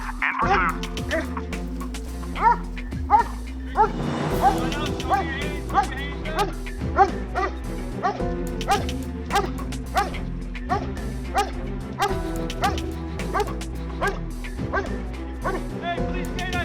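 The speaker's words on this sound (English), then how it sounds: "Hey, police canine, stop!" A police dog barks repeatedly in a steady rhythm, close and loud, over background music.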